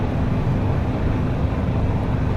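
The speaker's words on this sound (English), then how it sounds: "Almost on the rev limiter and fifth, there's another gear to go." A race car engine at steady high revs near the limiter in fifth gear on a Nürburgring Nordschleife lap, a loud, continuous in-car roar with heavy wind rush and no pauses.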